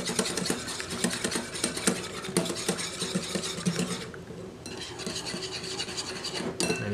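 Continuous, rhythmic rasping and scraping as homemade mayonnaise of oil and egg yolk is mixed in a bowl, fairly loud and close, with no talk.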